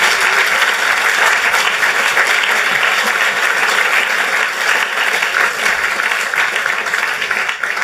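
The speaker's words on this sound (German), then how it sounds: "Und das ist wirklich ein Applaus wert." Audience applause, loud and sustained, a thick continuous roar of many hands clapping at a steady level with no talk over it.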